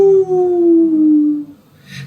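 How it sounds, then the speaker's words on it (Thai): A single wolf-like howl from a beast, used as a sound effect in a narrated Chinese fantasy novel. It is loud and close, and its pitch slides steadily downward over about one and a half seconds before a short hiss follows. "และเปล่งเสียงหอน"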